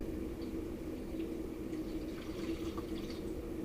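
Water poured into a Petsafe stainless steel Seaside pet fountain, a quiet, steady trickle and splash that fills the bowl without a break.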